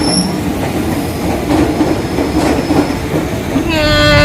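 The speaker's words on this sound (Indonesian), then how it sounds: "jadi sekarang naik kereta." A commuter train in Indonesia rolling along the rails, with a steady loud rumble, rhythmic wheel clatter and a rising metallic squeal from the wheels toward the end, heard from inside the car.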